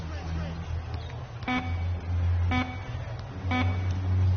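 A buzzer in a basketball video game marks the end of the first half with three evenly spaced loud electronic honks, each about a second apart, under steady crowd and arena noise.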